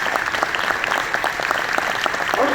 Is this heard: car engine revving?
no